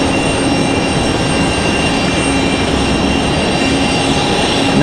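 A small aircraft on final approach at Raleigh-Durham airport gives a steady, close engine drone with a constant hum and no letup over a few seconds.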